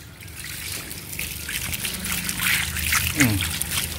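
Water trickles and splashes steadily onto potted plant soil, a soft continuous pour close by with faint background noise.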